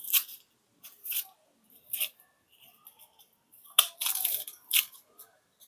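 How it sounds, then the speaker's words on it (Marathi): A knife finely chops onion on a cutting board, making a series of crisp, close, irregular slicing and crunching strokes separated by short silent pauses. "आता आपण कांदा चिरून घेऊ।"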